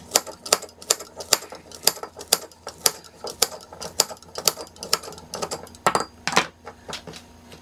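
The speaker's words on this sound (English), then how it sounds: "So I'm just gonna cut them up into my jar." Scissors snip wild lettuce leaves into a jar, producing a quick, uneven series of crisp close-up cutting clicks with no speech.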